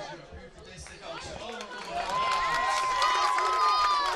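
Excited spectators at a ring fight in Türkiye cheer and shout as a crowd, the roar swelling louder and more sustained toward the end, with chatter and a voice speaking over it.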